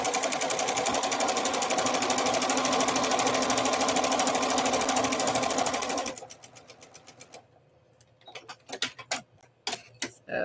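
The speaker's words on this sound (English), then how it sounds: "We're going to sew the other side" A sewing machine stitches fabric in a fast, even mechanical run for about six seconds, then stops and gives a few short irregular bursts of stitching with clicks between them.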